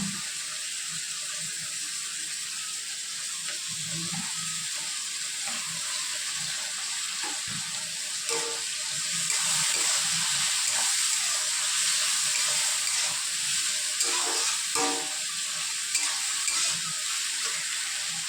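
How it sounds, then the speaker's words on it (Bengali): Ginger, garlic, chili and onion paste fries in oil for a banana flower curry, a loud continuous close sizzle that swells midway, with light spoon scrapes and no speech. "আদা রসুনের পেস্ট দিচ্ছি।"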